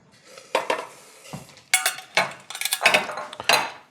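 Freshly steamed shrimp are tipped and scraped from a cooking pot into a bowl, giving a run of close metallic clanks, scrapes and clinks in uneven bursts with short pauses between.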